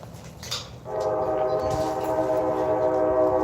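A train rumbles past a station platform in Cordele with a sustained, loud tonal horn blast that begins about a second in and holds steady to the end.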